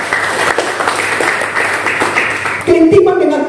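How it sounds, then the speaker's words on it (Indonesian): A church congregation applauding, a steady wash of many hands clapping at moderate loudness that runs on before giving way to a voice and music. "Tepuk tangan bagi Tuhan Yesus."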